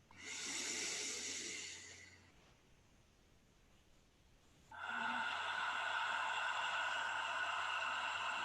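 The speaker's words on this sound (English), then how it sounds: "Inhale through the nose. Exhale through the mouth." Slow guided breathing: a long airy inhale through the nose, a quiet pause, then a long, steady exhale through the mouth, close and alone over soft background music.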